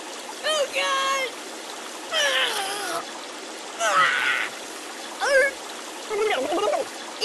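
Water splashes and pours in the Kick the Buddy video game, heard as repeated bursts of rushing flow mixed with cartoonish character vocal cries.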